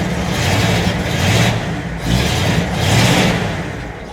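A 1964 Mercury car engine with an old factory exhaust-manifold choke idles close by and is given a little gas, its rumble swelling and easing in three short revs.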